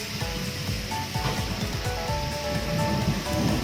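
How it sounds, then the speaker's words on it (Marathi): Tomato and onion mixture for sweet-sour chutney is stirred in a pan, giving a steady close sizzle with soft scraping and shuffling throughout. "हे मिश्रण असं हलवत राहायचं आहे आपल्याला"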